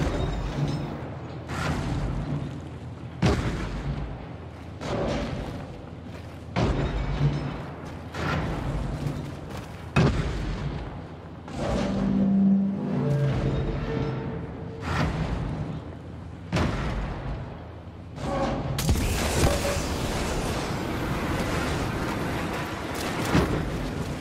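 Y-wing bombing run in Star Wars Battlefront, a series of heavy booming explosions landing one after another in a rough rhythm, with rumbling battle noise swelling louder near the end.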